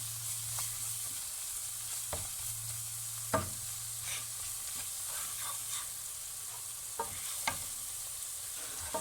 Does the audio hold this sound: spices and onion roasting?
yes